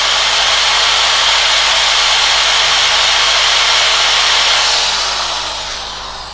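A Japanese 700W hand-held power drill runs loud and steady at high speed in one continuous whine, then winds down at the end.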